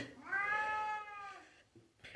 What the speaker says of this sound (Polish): Kot aktywny